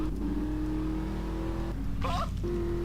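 A car engine in GTA III drones steadily and loud, with a brief high squeal partway through as the car speeds off.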